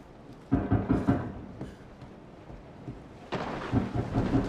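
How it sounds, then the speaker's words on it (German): Thunderstorm in the horror game Resident Evil 7: two heavy rolling thunder crashes with a steady rain wash between them, loud and close, no talking. "Oh, Gewitter."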